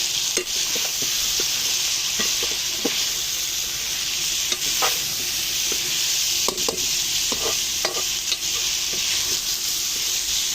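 Two large onions sizzle steadily in hot oil in a meat karahi while a utensil stirs them, giving scattered scraping knocks over a continuous close, bright frying hiss.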